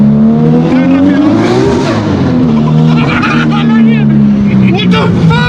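A Nissan Skyline GT-R R33 spins all four tyres in a loud, continuous skidding squeal over a steady engine drone, heard close and at full volume.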